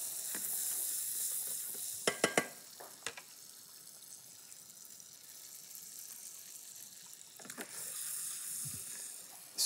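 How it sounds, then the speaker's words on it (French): Butter and a pinch of sugar caramelizing in a pan: a steady close hiss of sizzling throughout, with a few sharp clinks of a utensil against the pan midway and near the end. "Volontairement, je mets pas mal de beurre. Et on va laisser caraméliser tout ça."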